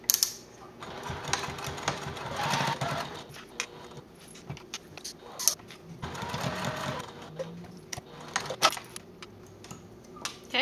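A sewing machine stitches a rectangle through the layers of a fold-over fabric wallet, running in rapid mechanical bursts with short pauses between runs and no talking.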